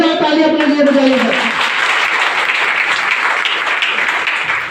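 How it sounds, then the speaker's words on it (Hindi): A meeting audience breaks into loud applause for themselves, the clapping swelling over the tail of a voice and then continuing as dense, sustained clapping that fades slightly at the end. "एक बार जोरदार ताली अपने लिए बजाइएगा।"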